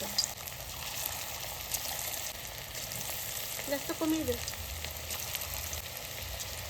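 Marinated chicken pieces fry in hot oil, one by one, for chilli chicken: a steady, close sizzle runs throughout, with a brief remark spoken partway through.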